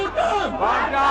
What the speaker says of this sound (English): The crowd started to chant, "WANTAM, WANTAM."